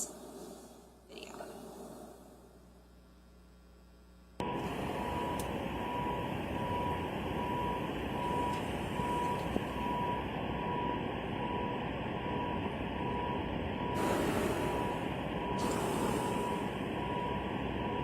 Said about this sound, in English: So tell us if you can hear a beeping in this video.